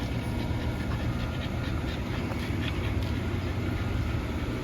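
Pit bull puppies pant outdoors on a hot day, a steady, continuous, close breathy rasp that runs the whole time without pause.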